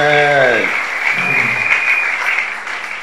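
A church congregation claps loudly and steadily after a sustained sung or spoken note, dense applause filling the space with a few voices mixed in.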